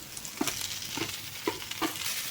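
Sliced okra sizzling with onions in a pan while being cooked into a Tamil-style poriyal, with a spatula scraping through roughly every half second over a steady hiss, fairly close and moderate in level.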